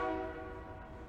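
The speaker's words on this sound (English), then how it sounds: "Why does it sound like a train is going by? Because it is a train." A train passes at a distance. A faint horn-like tone sits at the start over a steady low rumble that fades slightly, with no talking.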